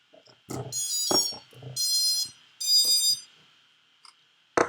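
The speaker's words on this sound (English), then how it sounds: "sounds like we got multi-shot by the startup sound" ESC startup tones from a freshly built MRM Reaper 6 inch FPV drone set to multi-shot: a few short high beeps and buzzing chirps in a sequence, close, with clicks and handling noise between them.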